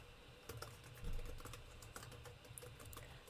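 Quiet, rapid keystrokes on a computer keyboard, irregular clicks and taps in bursts with one slightly heavier thump, close and alone without talk.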